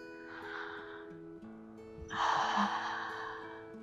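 A person breathes in and then out during a relaxing shoulder-raise exercise, with two soft, airy breaths, the second stronger and louder, over a quiet backdrop of faint music.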